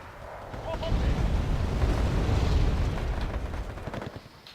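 Artillery fire in Wargame Airland Battle builds into a broad, rolling low rumble of distant blasts that swells, holds for a couple of seconds, then fades away.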